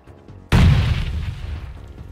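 A grenade explodes in the battle-royale video game PUBG: one sudden deep boom that hits hard, then rumbles and slowly fades over the next couple of seconds.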